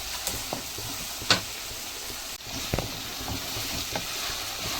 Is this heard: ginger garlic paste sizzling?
yes